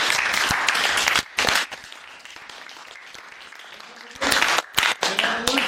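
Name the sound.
audience applause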